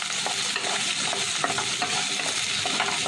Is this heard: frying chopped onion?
yes